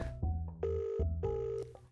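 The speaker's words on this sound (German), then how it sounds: "Scheiß Telefon, Alter." A telephone rings in short, bright electronic tone bursts, repeated several times, fairly faint and with no talk over it.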